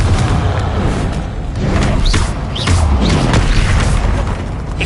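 Confringo blasting spell going off in Hogwarts Legacy during a hard-difficulty duel, a loud run of booming thuds and bursts with quick whooshing spell sweeps layered over a dense rumbling bed.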